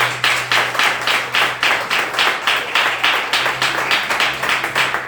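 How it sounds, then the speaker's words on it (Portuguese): Church congregation clapping in unison during a worship service, a steady rhythmic beat of many hands, loud and continuous with a faint hum underneath. "Vamos aplaudir as palmas para o nome de Deus"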